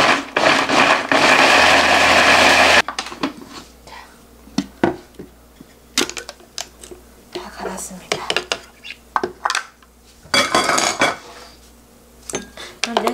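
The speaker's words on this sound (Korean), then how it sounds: "이거를 믹서기에 넣고 갈아주겠습니다." A kitchen blender grinds dried red chili peppers with a loud, steady whir for about three seconds, then stops, followed by scattered clinks and clatter of dishes and utensils.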